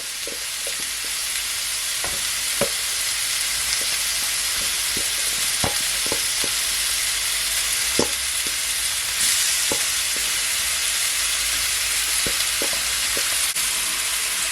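Jamaican curry pork sears in a pot with a loud, constant hissing sizzle, broken by faint scattered clicks and taps of a stirring spoon, close up and with no one talking.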